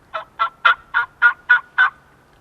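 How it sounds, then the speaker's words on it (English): Turkey hen yelps made during a turkey hunt: seven evenly spaced, raspy calls in a steady rhythm, close and clear with nothing else audible. "what I did initially was just give out some yelps"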